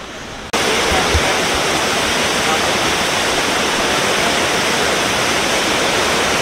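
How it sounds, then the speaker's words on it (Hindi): Sabri waterfall in Chitrakoot, Madhya Pradesh, roars as a loud, constant broadband rush of falling water that starts abruptly after a brief moment of quieter sound and continues unbroken. "बहुत सुंदर प्यारा था वाटरफॉल, काफ़ी अच्छा था वाटरफॉल है।"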